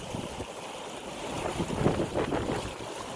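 Near 20-knot wind buffets a sailboat heading from Plymouth to the Helford River, a steady rushing hiss mixed with water washing along the hull, rising a little midway.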